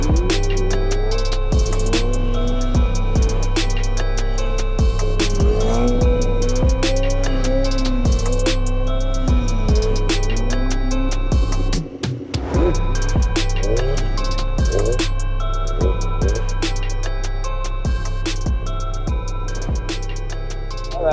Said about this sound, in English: this is what a wheelie feels like